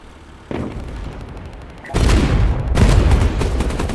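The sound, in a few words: ship cannon fire at enemies in Age of Water video game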